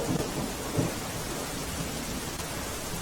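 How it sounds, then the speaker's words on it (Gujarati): Heavy rain pours in a dense, unbroken roar over Surat district, Gujarat, with low rumbles that sound like distant thunder underneath. "સુરતમાં પણ વરસી રહ્યો છે ધોધમાર વરસાદ"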